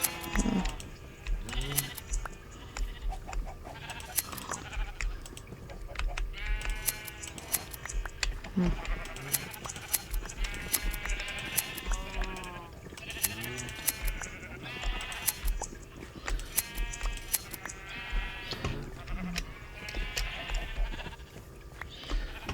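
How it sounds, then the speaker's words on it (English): Sheep in the Minecraft video game bleat over and over across a long stretch, their repeated calls mixing with keyboard tapping, game sounds and occasional talk. "now let's get the wool from the new colored sheep"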